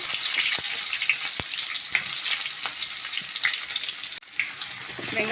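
Chopped onion fries in hot oil with mustard seeds and chilies: a loud, continuous close-up sizzle broken by occasional sharp clicks of a stirring spoon against the pan, with no voices.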